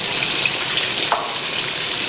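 Liquid laundry detergent, about a third of a cup, poured into a washing machine: a steady, close splashing trickle heard alone for a couple of seconds.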